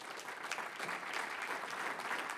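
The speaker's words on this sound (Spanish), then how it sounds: "Dele un fuerte aplauso al Señor." A church congregation clapping together in worship, a full continuous wash of applause from many hands, fairly loud and even throughout the short stretch, with no voices.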